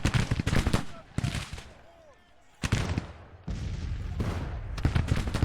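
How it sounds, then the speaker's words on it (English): Cavalry gunfire rattles in Grand Tactician: The Civil War, with loud clustered volleys of shots, a brief lull, then sustained crackling fire, with a voice talking at points. "Cavalry's going in to start shooting"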